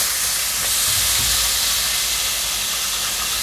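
Steady, dense sizzling hiss of potatoes frying in hot oil, loud and continuous with no talking.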